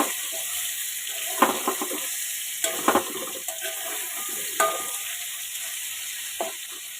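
Cut potatoes frying in oil with dried chilli, bay leaf and nigella seeds, a soft continuous sizzle broken by several stirring clatters and scrapes in the pan, close and fairly quiet.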